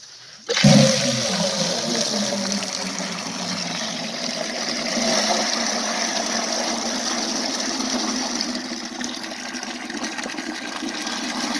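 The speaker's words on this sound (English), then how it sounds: "I'm gonna see if we can get some water out of this." Water gushes steadily from an outdoor frost-free hydrant, starting abruptly and then running loud and continuous with a rushing, splashing character, close by and with no talking.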